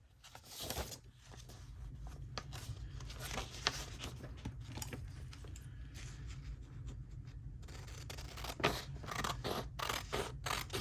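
Scissors snip and slide through paper while a journal flip-out page is trimmed, a close run of crisp cuts and rustles over a steady low hum, with no talking.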